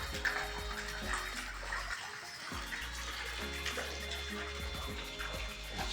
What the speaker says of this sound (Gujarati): પાણી ચાલુ મોટર ચાલુ